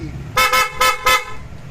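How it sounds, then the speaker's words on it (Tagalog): A PIAA aftermarket horn on a Yamaha NMAX V3 scooter honks three times in quick succession, loud and close, with the bursts evenly spaced. "Yung busina may selector, pwede gamitin yung stock horn, saka yung PIAA, busina pogi."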